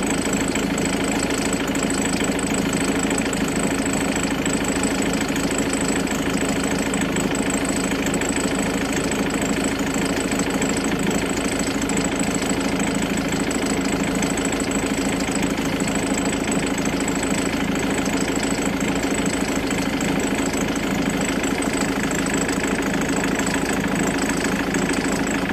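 A Jaguar X-Type 2.0 TDCI diesel engine with a fault that makes it cut out runs rough at idle, a loud, continuous close-up drone with a knocking, uneven vibration throughout and no talking.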